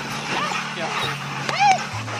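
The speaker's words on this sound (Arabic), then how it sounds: "تأتي في مقدمة أشرس أنواع الكلاب وأكثرها خطورة بسبب عدوانيتها المتكررة" A dog barks and yips at close range, partly masked by continuous spoken narration running over it.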